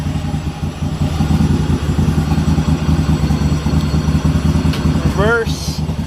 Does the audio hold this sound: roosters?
no